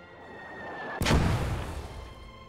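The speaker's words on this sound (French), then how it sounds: "On dirait que les mortiers ont été lâchés." Mortar fire in the World War II strategy game Call to Arms: Gates of Hell, Ostfront: after a second of faint background hum, a single loud, sharp blast erupts and rolls off into a long, rumbling decay with no voices.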